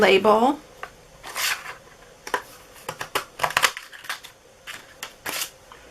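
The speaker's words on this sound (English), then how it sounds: "I'm going to just punch out my extra large decorative label" A paper punch snaps through cardstock, cutting out an extra large decorative label: a run of sharp, close clicks and crunches in irregular bursts, with a brief voice-like sound at the start.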